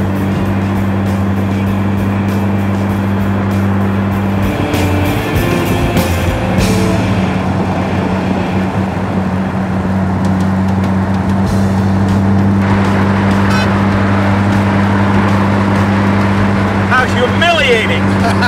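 A twin-turbo Bentley drones loudly from inside the cabin with a steady engine hum and tire roar as it gathers speed. People talk over the noise.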